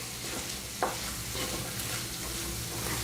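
Sweet corn with a pinch of salt fries over medium flame in a pan, giving a steady close sizzle with a brief stir or clink partway through.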